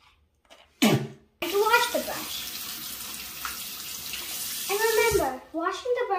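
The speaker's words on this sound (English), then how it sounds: "Washing the brush should also be done carefully." Running water from a tap rinses a toothbrush, a steady close splashing stream that lasts several seconds, with brief child vocal sounds before and after it.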